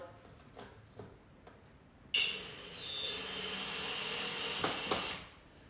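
A power drill whirs loudly, starting abruptly and running steadily for a few seconds as it drives a screw into a toad cage, then winding down.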